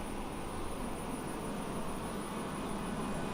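Steady airplane engine drone in a flight simulator game, a constant broadband roar that holds at an even level throughout with no talking over it.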